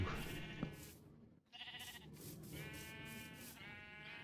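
Sheep in the Minecraft video game giving several short, bright bleats in a row separated by brief pauses, with a small click early on.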